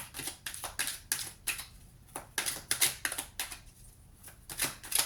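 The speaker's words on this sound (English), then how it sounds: "let's pull a card from the Isis Oracle" Cards from the Isis Oracle deck are shuffled and drawn, a run of quick crisp riffling flutters and soft slaps in uneven bursts, close and alone.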